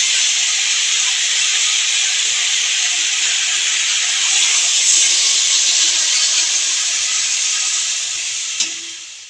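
Water hits hot oil in a pan of frying kohlrabi and makes a loud, steady hiss of steam and sizzle that barely changes, then fades slightly with a small clatter near the end.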